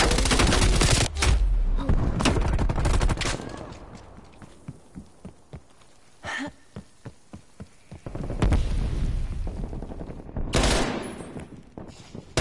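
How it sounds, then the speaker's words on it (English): In the video game Call of Duty Cold War, a thrown flashbang grenade goes off in loud broadband bursts amid crackling gunfire, with quieter rapid pops between the blasts. "Sending flashbang."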